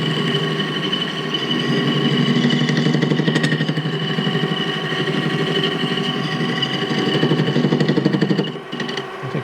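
A mini metal lathe turns a piece of aluminium with a steady, loud motor hum and whine that holds nearly unchanged, then dips briefly near the end.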